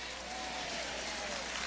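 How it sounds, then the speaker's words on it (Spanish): A conference crowd claps loudly in a hall, a continuous dense roar of hands heard from a distance and slightly muffled, without a break. "Ese aplauso de lo más fuerte."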